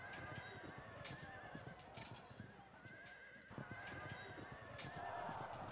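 Horses whinny over a thick battle soundscape in the ancient-era strategy game Field of Glory II, with drumming hoofbeats, clashing noise and several neighs rising through the steady, dense din.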